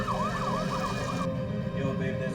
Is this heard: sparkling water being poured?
no